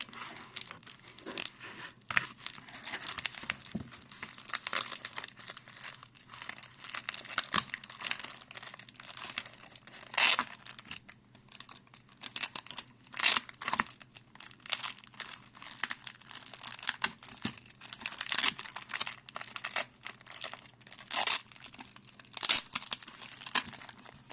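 Crinkly paper rustles and crackles continuously as packages of coins are unwrapped, with sharp tearing crunches scattered throughout.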